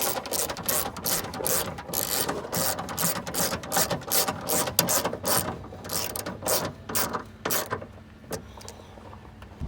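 A ratchet clicks in fast repeated bursts while tightening the ten headlight bolts on a 2008–2012 Chevy Malibu, near and crisp, the strokes thinning out toward the end.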